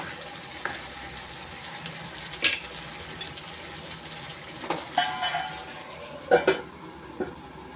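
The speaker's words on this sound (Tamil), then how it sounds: "நல்லா கிண்டி விட்டு மூடி வச்சுக்கணும்" Quail masala gravy being stirred in a cooking pot, a low frying sizzle with scattered scraping clinks of the spoon against the pot, moderately quiet and without talk.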